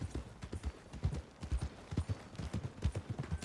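Horse hooves clip-clop at a steady walking rhythm in the Red Dead Redemption 2 video game, close and fairly quiet, with about a dozen even hoof falls over a few seconds.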